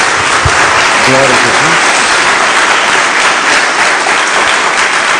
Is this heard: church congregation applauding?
yes